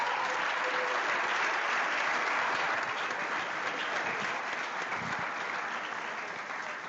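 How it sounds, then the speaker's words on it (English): An indoor audience at a Pro Football Hall of Fame and Cleveland Browns Black History Month program gives sustained, dense applause that fades slightly near the end. "let's give the Pro Football Hall of Fame a round of applause."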